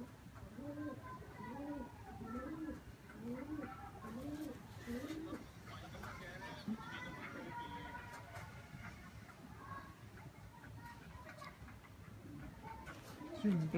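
Pigeons coo close by in a series of rhythmic, throaty rolling calls that fade into quieter background cooing, with people talking at times.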